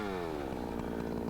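A chainsaw trims the cut ends of a white oak veneer butt log, its engine holding a loud, steady high rev close by after a brief rise in pitch, no speech.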